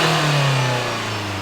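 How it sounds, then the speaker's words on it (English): A 2016 Renault Kadjar 1.5 dCi diesel engine with flat performance revs up close and loud, its steady drone rising in pitch and holding high throughout, with no talk. "we rev, Roddy? And away it goes"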